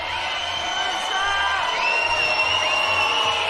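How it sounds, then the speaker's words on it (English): Crowd at a Commonwealth Games 3x3 basketball gold medal game cheering, with loud whoops and high yells rising over a steady roar of the arena. "listen to this crowd, Dan."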